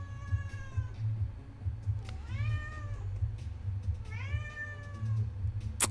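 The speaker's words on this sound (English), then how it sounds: "But if you hear a meow, that's my cat." A domestic cat meows indoors, two clear drawn-out meows with rising and falling pitch over a low steady hum, fairly close and moderately loud.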